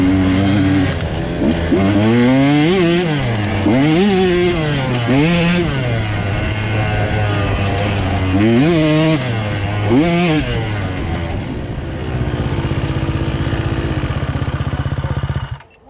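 A Husqvarna TE-150 dirt bike engine idles, then revs repeatedly in sharp rising and falling surges at an off-road track. It is loud and close, settles back to a steady idle, and cuts off abruptly at the end.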